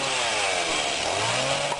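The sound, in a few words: chainsaw used to open a beer bottle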